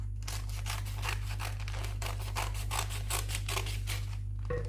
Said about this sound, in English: let me cut it and show you